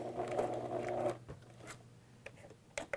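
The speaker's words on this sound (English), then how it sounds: "And I will backstitch here" A sewing machine backstitching at a zipper on a skirt waistband runs with a steady mechanical whir for about a second, then stops, followed by a few faint clicks and taps.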